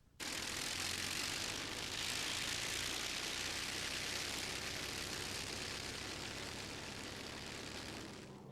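A World War II twin-engine airplane makes a fast pass at a 1985 airshow, its engine roar building into a loud, steady wash of broadband noise that holds for several seconds before easing slightly.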